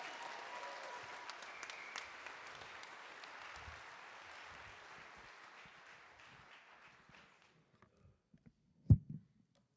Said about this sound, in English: Let's give the teachers a massive round of applause for a moment.